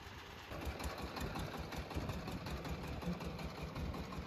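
Small mini wheel loader with a hydraulic system, engine running at a steady close idle, a continuous low chugging rumble with fast rhythmic pulsing and no talk.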